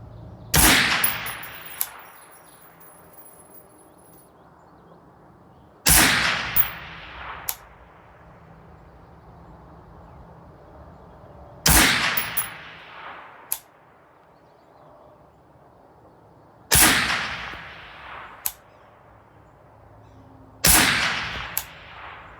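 A .223 rifle fires at long-range targets out to a mile: five loud, sharp shots spaced several seconds apart, each followed by a long, echoing decay and faint distant impact clicks.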